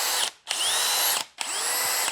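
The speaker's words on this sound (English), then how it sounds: "You can go to straight drill," A DeWalt hammer drill whines loudly at high speed in three separate bursts, spinning up and down with short pauses between runs. The drill is heard alone and close.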